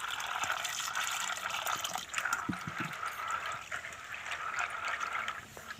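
Clean water pours over soaking chana dal in a kitchen bowl, a steady splashing gush with brief liquid trickles and small knocks, close and moderately loud, with no voices.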